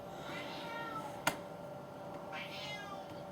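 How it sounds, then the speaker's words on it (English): A pet cat meows just after eating its dinner, a few drawn-out cries that rise and fade against a quiet indoor background, plus one sharp click partway through. "he likes to meow like that right after he's eaten his dinner"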